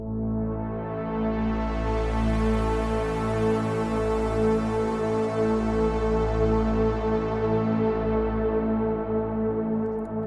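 A lush synthesizer pad patch played in poly 8 mode, sustained chords held steadily for about ten seconds with a brief change between chords, rich and full, alone without talk.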